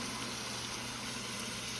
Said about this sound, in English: We'll put 2 cups of hot water in